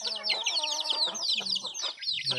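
Several domestic chickens in their new coop cluck and chatter busily together, close by, in quick overlapping bursts with no talking.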